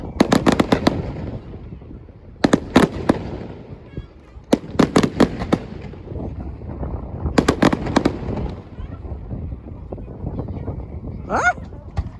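Carnival fireworks at Swanage bursting in repeated loud bangs and crackling clusters against a steady crowd murmur, with people cheering and talking between explosions.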